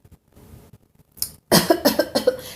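After a few faint background noises, a person nearby coughs several times in quick, harsh bursts.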